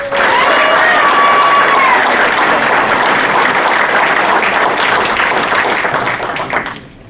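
Applause from a forum audience at a District 8 candidate event swells at once into loud, dense clapping with faint voices mixed in, holds for about six seconds, then tapers off.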